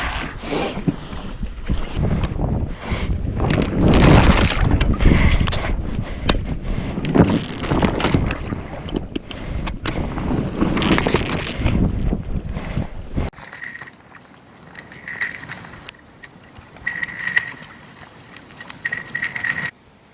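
Wind buffets and rumbles loudly against the microphone in gusts on early winter lake ice while ice fishing for pike, with rattling handling noise; after a cut, quieter ambience with faint tonal chirps.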